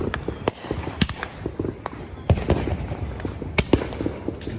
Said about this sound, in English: 4th of July. That means it's firework time.